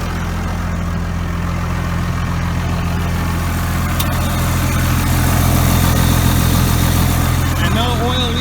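A T7040 tractor engine idles after an oil change with a loud, steady low throbbing hum and harmonic drone, continuous and close, growing slightly louder toward the end.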